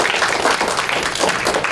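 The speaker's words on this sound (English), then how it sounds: "So if we can all give them a huge round of applause" Audience applause for education staff at a student success event, a short steady burst of many hands clapping at moderate loudness with no talk over it.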